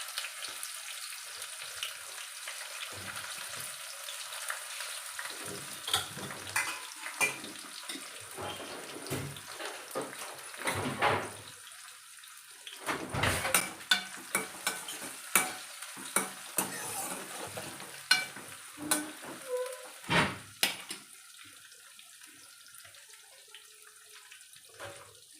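Onion, dried red chillies and curry leaves hiss and crackle in hot oil as a tempering, with a steady soft sizzle broken by sharp pops, spits and stirring scrapes.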